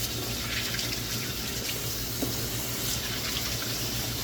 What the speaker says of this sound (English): So all we're going to do is wash our hands.